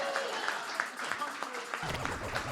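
An open mic audience breaks into applause, with a patter of claps running under a voice speaking over the crowd.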